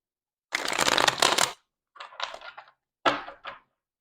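Tarot cards being shuffled in three bursts: a long riffle of about a second, then two shorter riffles after brief pauses, close and crisp with no talking.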